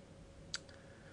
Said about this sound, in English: So I'll click on this